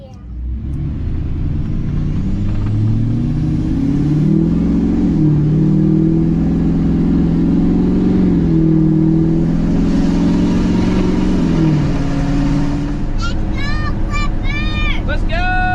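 A red truck's engine idles with a deep rumble, then revs and accelerates, the loud drone rising in pitch before fading as the truck drives away.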